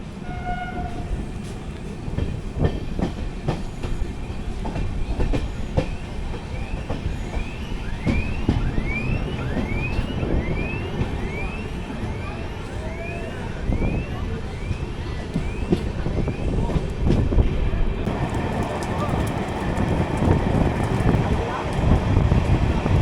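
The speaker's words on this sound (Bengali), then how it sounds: "নবাবের শহর মুর্শিদাবাদ জাংশন ছেড়ে ট্রেন এগিয়ে চলল আজিমগঞ্জ জাংশনের দিকে" The Kolkata–Sairang Express runs on between Murshidabad and Azimganj junctions, a steady loud rumble with wind buffeting, repeated rail clatter and passing squeals throughout.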